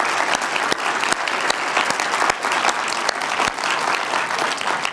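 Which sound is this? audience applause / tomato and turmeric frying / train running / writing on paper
audience applause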